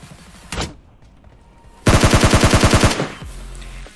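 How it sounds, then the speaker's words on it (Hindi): Gunfire in the PUBG Mobile Lite video game: one loud shot, then after a pause a rapid, evenly spaced burst of about a dozen automatic rounds, close and loud, with no talking. "सामने से एक फायर साउंड हो रहा है"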